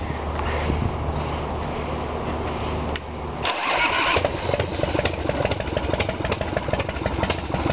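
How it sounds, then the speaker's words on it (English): A 110-cubic-inch Independence pro street motorcycle engine is started close by: a steady cranking whir gives way to a loud, rough, throbbing idle that continues to the end, with no talk over it. "We're going to fire the engine up for you right now."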